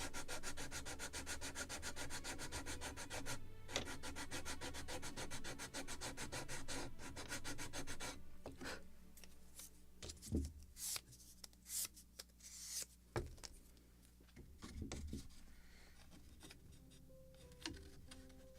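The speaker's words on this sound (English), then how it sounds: "A little more sanding in this same spot." Sandpaper rubbing wooden planking on a model of the 1776 gunboat Philadelphia, a steady fast back-and-forth scrape that breaks into scattered short strokes and taps, close and quiet.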